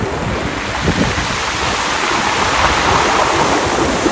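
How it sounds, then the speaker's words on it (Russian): Sea waves wash steadily over a pebbly Black Sea shore at Lazarevskoye, a loud, continuous rushing roar with rolling stones crackling beneath it. "Вам, наверное, слышно, как шумит галька и волны."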